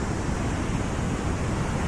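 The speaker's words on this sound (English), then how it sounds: "I know when I stand here in front of the ocean" Ocean waves wash onto the shore as a steady, broad rushing surf, heard alone with no voices.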